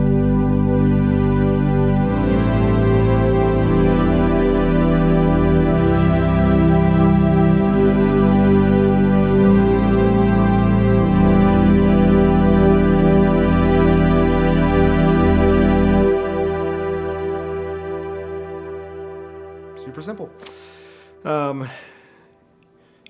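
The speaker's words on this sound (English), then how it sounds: "jump into like a really bright pad that's really nice." Bright, washy synth pad from a Nord Stage 4 keyboard, sustained chords with layered harmonics shifting every few seconds, loud and steady, then cut off around sixteen seconds and left to decay into a long fading tail.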